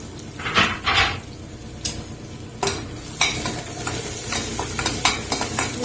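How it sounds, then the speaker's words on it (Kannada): Garlic and coriander fry in oil in a pan, stirred with a utensil that scrapes and clinks against the metal in irregular bursts over a soft sizzle. "ಸ್ವಲ್ಪ ಬೆಳ್ಳುಳ್ಳಿ, ಇದೆಲ್ಲ ಹಾಕಿ ಸ್ವಲ್ಪ ಹೊತ್ತು ಕಾಯಿಸ್ಬೇಕು"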